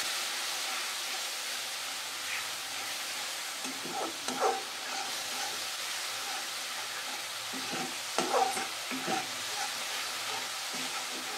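New small potatoes cooking in a curry with red chili powder, turmeric and a splash of water are stirred in a pan: a soft, steady hiss with a few quiet clicks and scrapes of the spoon.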